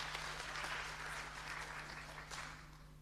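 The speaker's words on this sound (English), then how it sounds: "Ladies and gentlemen, another round of applause for our..." Festival audience applauding in a steady, dense wash of clapping that holds through the whole stretch and eases slightly near the end, with a constant low hum underneath.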